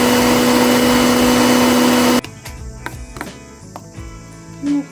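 A mixer grinder grinds a paste with mustard seeds for mango pachadi, a loud steady motor whine for about two seconds, then stopping abruptly into quiet kitchen clatter with a brief hum near the end.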